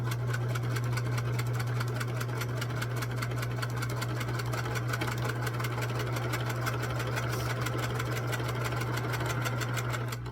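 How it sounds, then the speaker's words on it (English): A sewing machine runs continuously, chain-sewing 2-inch quilt squares for a four patch quilt one after another, its steady motor hum and rapid needle ticking close and even throughout. "push a big bunch of 2-inch squares all through the machine one after another and kind of assembly line sew it"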